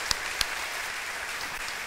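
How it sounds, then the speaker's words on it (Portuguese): Applause from a church congregation welcoming visitors at a service, a steady mid-level wash of clapping with a couple of sharper claps standing out early on. "Vamos aplaudir os visitantes"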